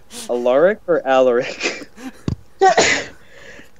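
A single sharp sneeze bursts out midway, close and loud, amid a woman's conversational speech before and after it.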